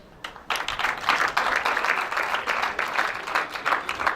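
Audience hand clapping at an outdoor Universal Children's Day celebration in Kololo: applause swells after a brief quiet start and holds as a steady, fairly close crowd of clapping hands.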